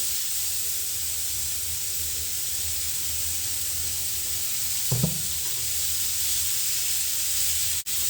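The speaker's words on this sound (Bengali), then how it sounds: "পেঁপেটা সিদ্ধ করে এইভাবে ভেজে নেবেন" Boiled papaya frying in oil, a continuous close hiss and sizzle with one brief stirring clatter midway, no voices.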